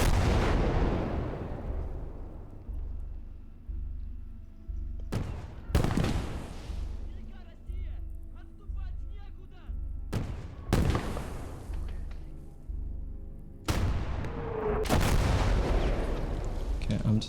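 Heavy artillery booms in the WWII game Gates of Hell: Ostfront, with several loud blasts spaced a few seconds apart, each trailing into a long rumbling decay, and a voice speaking between the shots.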